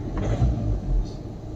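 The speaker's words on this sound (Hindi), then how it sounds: "800 से 1300 के आरपीएम के बीच में ना काफ़ी नॉकिंग करती है" VW Vento engine idling at low revs between 800 and 1300 RPM with a faulty fuel injector, a rough, uneven low rumble with irregular knocking and missing pulses, close and steady.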